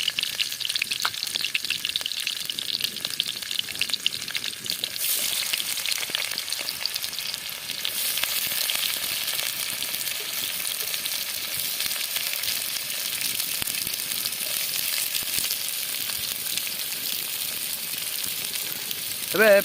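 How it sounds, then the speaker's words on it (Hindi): Onions fry in hot oil with whole spices and green chillies for a layer hen chicken curry, a steady close sizzle with stirring scrapes running throughout, loud and continuous with no talking. "एबे आम पियाज पकईदवा।"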